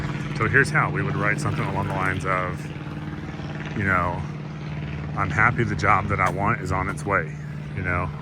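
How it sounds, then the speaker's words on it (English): An advertising plane drones overhead as a steady low engine hum running beneath a person speaking close up throughout. "sorry about the plane flying over there advertising"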